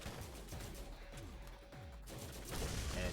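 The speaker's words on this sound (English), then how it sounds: "this SMG is just ripping through them" Rapid SMG fire in Borderlands, a quick string of repeated shots rattling fairly faintly for a few seconds, with no talk over it.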